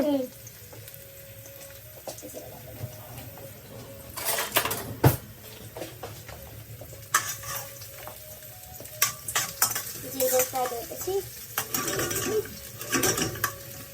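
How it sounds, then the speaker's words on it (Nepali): Ginger and garlic fry in hot oil with a soft, continuous sizzle, broken by sharp clinks and scrapes of a utensil against the pan in bursts of stirring. "सबभन्दा सुरुमा जिन्जर हल्का फ्राई भएपछि गार्लिक हाल्ने"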